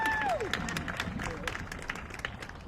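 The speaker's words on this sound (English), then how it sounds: "Let's give it a round of applause for Reverend Viviana DeCohen." Applause breaks out at a dedication of a peace garden honoring women veterans: scattered, uneven clapping from an outdoor crowd, loud at first and then thinning, with a whistle-like tone at the start and murmured voices underneath.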